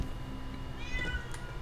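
A single short meow from a small cat sounds nearby and a little faint over a steady low hum, with no voices.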